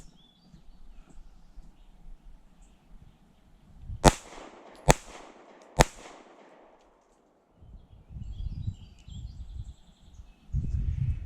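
Three sharp gunshots from a Fusion Firearms XF Pro pistol with a ported barrel, spaced about a second apart and loud against quiet outdoor background, followed by rumbling handling or wind noise.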